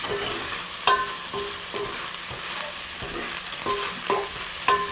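Omena fish fry on low heat in a pan, salted, with a soft steady sizzle. A utensil turns them with rhythmic scraping strokes and small clinks about once a second, close and fairly quiet, with no talking.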